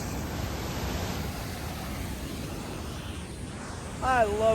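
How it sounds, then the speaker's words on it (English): A waterfall on a Sierra Nevada stretch of the Pacific Crest Trail roars as a steady, dense rush of water, even and close. A brief voice-like sound rises near the end. "I love a good waterfall."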